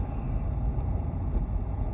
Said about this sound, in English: Car approaching, but there's enough room for